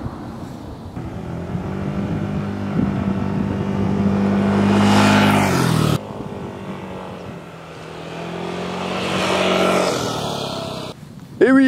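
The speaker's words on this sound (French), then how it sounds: "je vous présente le Yamaha Tricity 125, et oui, un 125 cm3, mais attention, 3 roues" Yamaha Tricity 125, a 125 cc three-wheeled scooter with two front wheels and one rear, runs with a steady engine drone that revs up and eases off in pitch several times, fairly close and loud.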